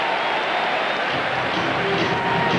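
A baseball crowd at a 1991 World Series game between the Atlanta Braves and Minnesota Twins, a loud sustained roar of cheering and clapping filling the stadium.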